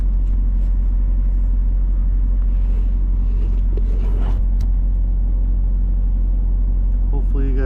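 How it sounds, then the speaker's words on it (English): A truck rumbles steadily while driving, with a constant deep low vibration throughout and scattered rattles and clicks on top. "Vibration of the truck"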